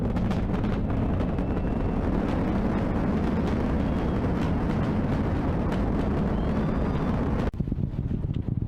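Four main engines of the Space Launch System core stage roar during the Artemis II launch: a loud, continuous, deep rumble with crackle and wind buffeting that cuts off abruptly near the end, with no voices.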